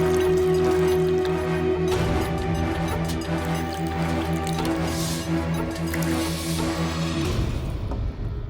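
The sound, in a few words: pouring a peg of liquor into a glass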